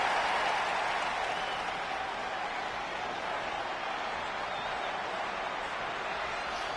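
Home crowd in the WWE 2K20 wrestling video game roars in a steady, dense wash of cheering and applause that holds near-constant loudness throughout, with no voices standing out.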